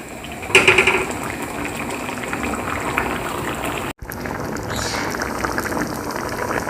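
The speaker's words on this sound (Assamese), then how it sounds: "এতিয়া গেছৰ ফ্লেমটো হাই কৰি দিছোঁ। 2 মিনিটৰ কাৰণে আপোনালোকে ভালদৰে উতলিবলৈ দিব" Chana dal curry boiling hard over a high gas flame, a dense continuous bubbling hiss with a brief sharp clatter near the start and a momentary cut partway through.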